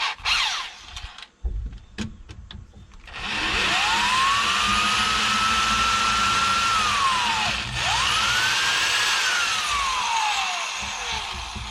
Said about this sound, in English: if you're drilling into this and you don't know what's behind it, you better not go too far